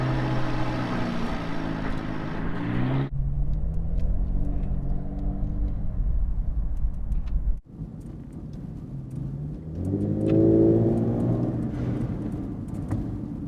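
A Cadillac CTS-V Sport with a Corsa axle-back exhaust cruises off throttle at about 1,500 RPM, giving a deep steady rumble from close by. Its tone shifts abruptly twice, then swells briefly near the end.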